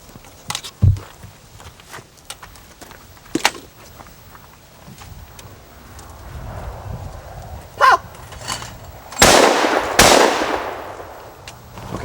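Shotgun fired at sporting clays targets outdoors, a couple of sharp loud blasts with a longer booming shot near the end, separated by quiet pauses and light movement noise.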